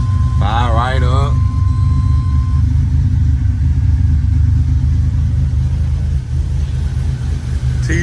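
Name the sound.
1987 Buick Grand National 3.8 turbocharged V6 engine running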